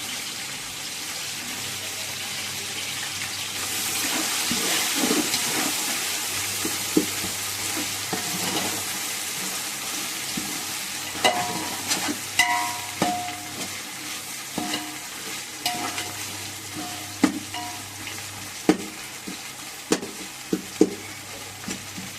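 Three chopped tomatoes dropped into a pan and frying for mutton dum biryani: a hiss swells early, then steady sizzling with frequent sharp spoon knocks and scrapes against the pan.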